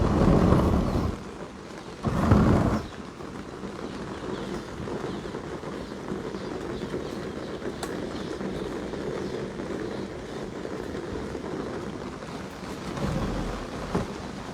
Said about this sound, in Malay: kerana hujan lebat turun insya-Allah.